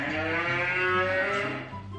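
Single sustained cow moo, loud and close, with a full harmonic drone that holds for nearly two seconds before fading off, no voices present.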